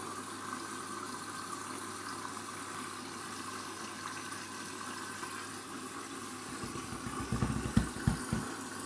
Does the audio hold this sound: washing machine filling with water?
yes